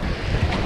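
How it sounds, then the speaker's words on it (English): Strong wind buffets the microphone, a dense low roaring rush with gusty swells throughout a brief moment, no voices. "That was windy."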